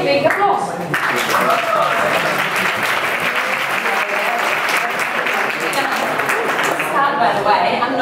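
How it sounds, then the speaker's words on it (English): A conference audience breaks into sustained applause for a speaker, dense, loud clapping from a large crowd filling the room without a pause. "please give her a big applause"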